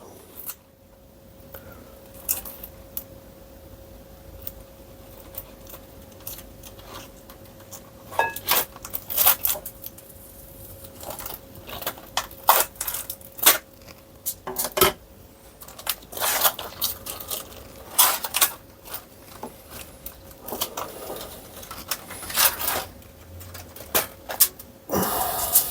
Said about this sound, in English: Before I take that out, I'm going to cut this plastic